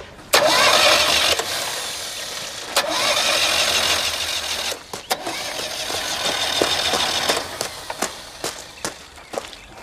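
An old car's engine cranks repeatedly without catching, its ignition contacts wet with condensation; several bursts of starter grinding separated by pauses and clicks, fairly close and loud.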